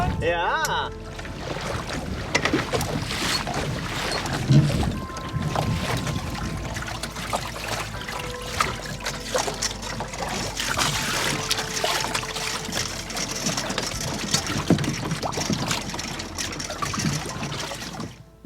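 A sailboat moves along at anchor area on a gorgeous day, wind and water rushing steadily against the hull with small splashes and trickles throughout, while people talk briefly nearby.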